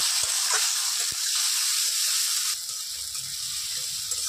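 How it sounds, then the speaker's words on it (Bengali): Chopped tomato, green chilli, onion and ginger sautéing in a hot pan for aloo paratha filling, a steady close sizzle with a few sharp spoon taps early on. "টমেটো কুচিগুলো দিয়ে দেব। আর লঙ্কা কুচি রেখেছিলাম, লঙ্কা কুচিটা দিয়ে দেবো। দিয়ে আমি আবার একটুখানি কষিয়ে নেব।"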